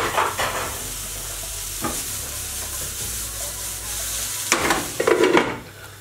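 Chopped vegetables sweat in a little oil in a pan, a steady close sizzle broken by a few bursts of stirring scrapes and clatter, louder toward the end.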